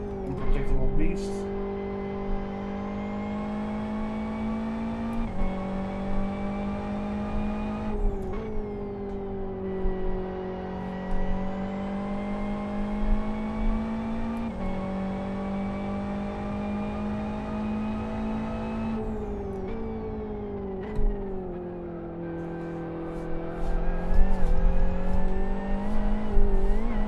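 XR race car engine in the Live for Speed racing game, revving hard through gears with steady high-pitched whine, brief drops at shifts around every few seconds, continuous and close throughout.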